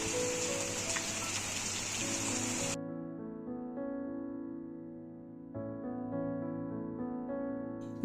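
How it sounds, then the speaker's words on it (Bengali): Heavy rain pours down in a dense, steady hiss over a tonal hum, then cuts off abruptly, leaving only sustained musical tones. "এখন এই বৃষ্টিটা বেশ জোরদার নেমেওছে"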